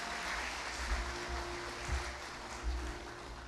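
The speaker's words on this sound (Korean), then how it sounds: "모두 큰 박수로 축하해 주시기 바랍니다." Faint, distant applause from a seated audience at a university degree conferment ceremony, a soft continuous wash of clapping that swells slightly in places and stays low in level.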